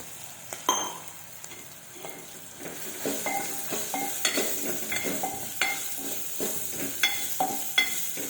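Moong dal stirred and fried in oil: a steady sizzle with repeated scraping stir strokes and light clinks of a spoon against the pan, close and fairly quiet, no voices.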